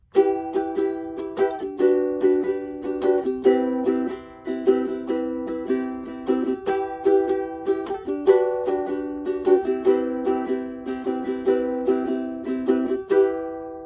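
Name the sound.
ukulele chord strumming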